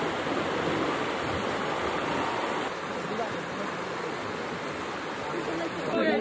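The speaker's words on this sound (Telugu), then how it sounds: "మనకి తిరుపతి దగ్గరలో ఉన్న మామండూరు ఫారెస్ట్ లో ఉండే వాటర్ ఫాల్స్ ఇది." A forest waterfall at Mamandur near Tirupati pours in a steady, dense roar of rushing water that stays loud and unbroken throughout.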